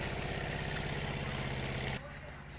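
A pump machine set up beside a pond to drain it, running with a steady low mechanical chugging drone that dips partway through, heard outdoors under a voice speaking.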